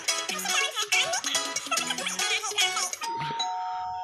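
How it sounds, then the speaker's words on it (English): A doorbell chimes over loud game music and chatter in a Roblox session, then a sustained tone rings out alone near the end. "That was a doorbell."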